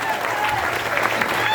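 An audience at an Odia comedy stage show claps. A brief burst of dense crowd applause lasts under two seconds, with a voice faintly mixed in.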